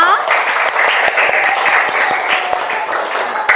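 Schoolchildren clap together in a classroom, brisk overlapping claps mixed with children's voices and chatter throughout.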